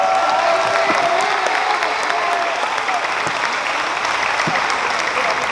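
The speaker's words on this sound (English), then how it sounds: "round of applause, fuerte aplauso" A graduation ceremony audience applauds loudly and continuously, thick steady clapping with a few scattered sharper claps and faint murmured voices mixed in, cheering barely present.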